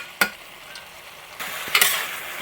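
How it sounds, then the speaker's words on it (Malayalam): Chicken pieces stirred in a hot pan for a Kerala-style stew, quiet frying with a couple of sharp utensil clicks, then a louder sizzle as the pieces are turned, with no voices. "ചിക്കൻ്റെ നന്നായിട്ട് കളർ വെള്ളയാവുന്നോടം വരെ നന്നായിട്ട് അങ്ങോട്ട് ഇളക്കി കൊടുക്കുക"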